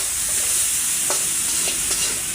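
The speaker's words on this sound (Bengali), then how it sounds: "এখন হচ্ছে আমি একটু কষিয়ে নেবো আগে এগুলো" Leafy greens, chal kumro pata, with salt and turmeric stir-fry in a hot pan, making a loud, continuous close sizzle broken by a few soft spoon scrapes, with no talking.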